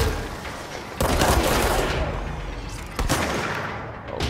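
Gunfire in the video game Control, with bursts of shots and heavy booms that start sharply and then decay under a constant rumble.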